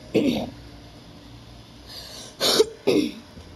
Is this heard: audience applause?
no